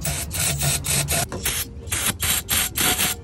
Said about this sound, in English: But now we're gonna grab some carb cleaner, spread in there nice and thick.